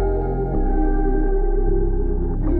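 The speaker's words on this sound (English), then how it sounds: "bass that comes in with the same sound after a while" Bass line in a beat loop being mixed in Logic Pro, with deep sustained low notes changing in steady steps beneath layered tones, loud and continuous with no voices.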